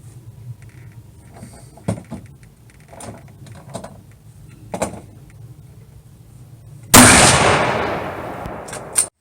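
A Thompson Center Compass rifle in 6.5 Creedmoor fires one loud, sharp shot at a 100-yard range. The report rings off and decays over about two seconds, following a stretch of faint clicks and handling noises.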